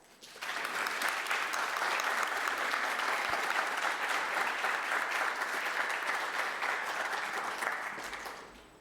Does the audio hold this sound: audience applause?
yes